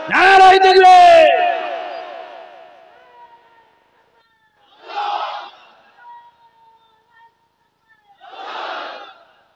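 Crowd at a Bengali Islamic religious gathering chants the takbir call loudly in unison, then answers two more times in shorter, quieter bursts with pauses of silence between them.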